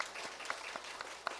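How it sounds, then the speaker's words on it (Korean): A church congregation claps for a newlywed bride and groom during a worship service: a short, faint burst of many hands patting together at a steady, even rate. "신랑 신부 다 같이 박수하겠습니다"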